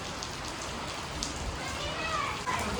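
Rain falling steadily on surfaces, a continuous soft patter heard at moderate distance, with faint voices in the background.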